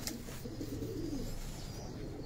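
Pigeons on a rooftop where a pigeon keeper and friends gather, soft low cooing close by over a steady outdoor background, with a brief sharp click at the start.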